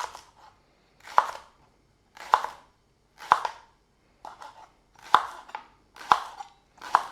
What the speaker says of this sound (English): we're going to cut it into about 1/4 centimetre, 1/2 centimetre rings